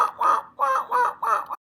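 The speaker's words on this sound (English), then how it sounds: "Gerfalcon." Gyrfalcon calling in a rapid series of four or five harsh, raspy cackling notes, close and loud, each evenly spaced and cutting off abruptly.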